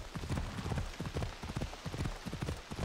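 Hooves of a galloping horse clatter along a road in the video game Assassin's Creed Odyssey, a steady fast rhythmic drumming that runs continuously under a soft background wash.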